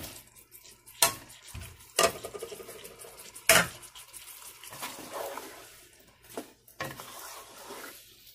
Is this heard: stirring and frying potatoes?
yes